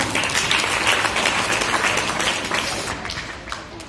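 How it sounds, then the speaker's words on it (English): Audience at a school Ramzan Iftar party celebration gives a big round of applause, a dense, steady clatter of many hands that fades slightly toward the end. "A big round of applause."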